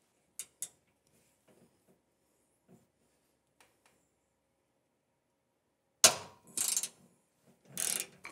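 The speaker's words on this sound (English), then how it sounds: "Probably going to need a ratchet to do this." Socket wrench ratcheting on the trunnion bolts of a Ridgid R4512 table saw: a few faint isolated clicks early, then after a quiet stretch several loud, close bursts of rapid ratchet clicking.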